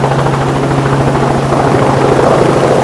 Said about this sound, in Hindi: तो लेने जा रहे हैं आज हम हेलीकॉप्टर की फ़्लाइट